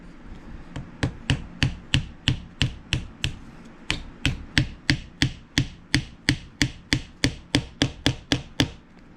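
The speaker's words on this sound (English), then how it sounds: "we'll drive them through just a little bit more and then peen them all down good" A hammer peens the metal pins of a coffin-style Bowie knife handle, striking about 25 times in a steady, rapid rhythm. The sharp, ringing blows are close and clear, with a brief pause near the four-second mark and no voices.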